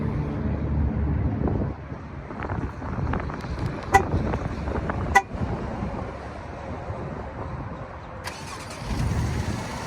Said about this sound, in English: you hear how quiet that was starting up?